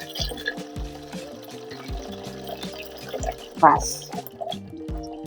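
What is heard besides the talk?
water being strained into a vessel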